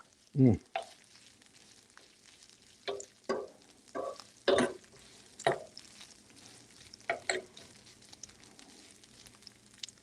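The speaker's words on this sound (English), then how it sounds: "So our chorizo is cooking up nicely." Chorizo with garlic and paprika frying on a stovetop, a low quiet sizzle punctuated by about ten sharp scraping stirs spaced irregularly.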